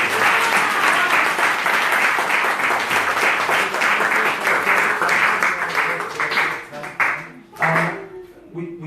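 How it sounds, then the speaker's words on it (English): Loud, sustained applause from a gathering at a Sunday talk at ISKCON Newcastle, many hands clapping steadily for several seconds before thinning into a few scattered claps and a voice at the end. "give everyone a round of applause"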